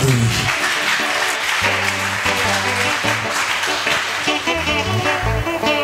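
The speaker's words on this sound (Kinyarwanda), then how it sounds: "tugukubitiye amashyi mu izina rya Yesu" A church congregation claps in a dense, continuous burst of applause, loud and close, with a low musical drone sounding underneath.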